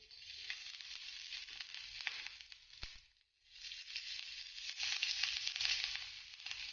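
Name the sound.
oil added to pan, sizzling, for green chili thecha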